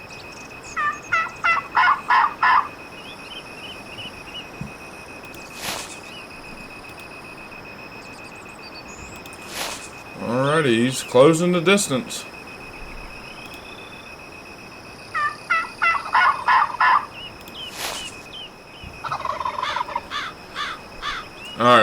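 A wild double-bearded turkey gobbler sounds off during a spring bow hunt outdoors, giving repeated rattling gobbles in several bursts at a moderate distance. Someone speaks quietly between the calls.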